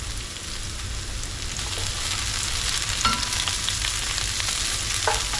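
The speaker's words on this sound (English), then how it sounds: "Being careful not to overbrown the garlic." Garlic fries in a pan with a dense, steady sizzle and crackle, close and loud, with a few faint clinks of stirring over the continuous hiss.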